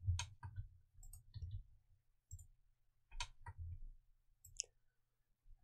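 A computer mouse gives a series of sharp, faint clicks in small bursts of two or three with short pauses between, heard up close in an otherwise quiet room.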